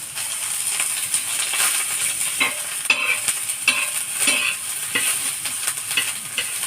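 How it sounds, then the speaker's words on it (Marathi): Garlic, ginger and grated coconut roast in a little oil for a Patwadi rassa masala, giving a steady close sizzle and crackle with repeated scraping stirs of a spoon against the pan, no voices. "थोडंसं तेल टाकते त्याच्यावर, लसूण, आलं, खोबरं हे सगळं भाजून घेते"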